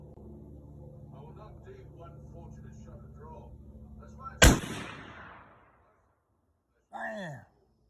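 A single 8mm sniper rifle fires one loud, close, sharp report that rolls into a long fading echo, with voices talking quietly before the shot and a brief sound afterward.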